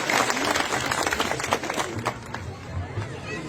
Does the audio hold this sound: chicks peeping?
no